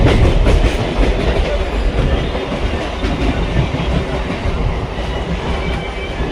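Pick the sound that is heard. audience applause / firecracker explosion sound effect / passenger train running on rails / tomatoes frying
passenger train running on rails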